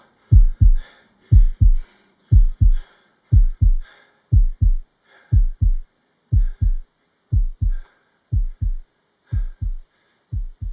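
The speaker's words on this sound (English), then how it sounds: "But for many minutes, the heart beat on with a muffled sound." Muffled heartbeat sound effect, steady lub-dub pairs of deep thumps repeating about once a second, loud and close with nothing else around them.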